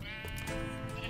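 A sheep in the Minecraft video game lets out one loud, wavering bleat that fills about a second, clear and close with no talk over it.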